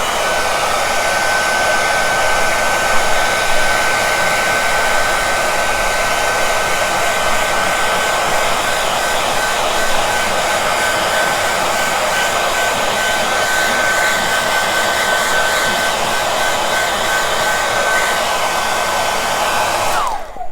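A hair dryer runs continuously at close range, blowing steadily to dry glue on a table tennis rubber. Its loud, even whoosh holds for about twenty seconds and cuts off at the end.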